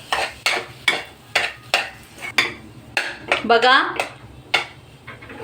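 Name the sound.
stirring sweet potato shira mixture in a pan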